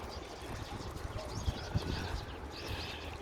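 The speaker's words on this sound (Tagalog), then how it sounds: "Ang dami talang ibon." Many birds outdoors in the cold at an elementary school in South Korea, scattered chirps and calls with soft wing flutters over a continuous outdoor rumble.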